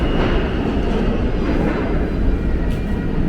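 Subway train at the West 4th Street station platform in Manhattan, heard as a loud, steady, low rumbling roar of rolling cars filling the underground space, with a faint squeal partway through.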